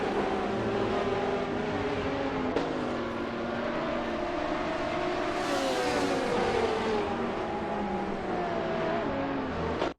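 Race cars in a Gran Turismo Sport AI racing simulation drone steadily as engines rev and shift pitch, with a continuous loud mix of several cars.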